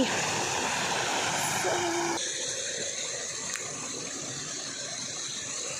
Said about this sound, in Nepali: यहाँ चाहिँ हाम्रो कुलो आएको रहेछ कि पानी